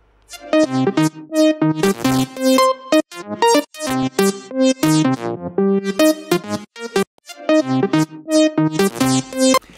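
Synth lead built on a triangle wave, with an auto filter that opens and snaps shut about 35 milliseconds later, plays a busy melodic line of short plucked notes with brief gaps, loud and close, no voices.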